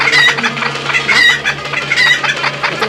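Chickens clucking loudly and close, repeated rhythmic bursts of clucks over steady background noise.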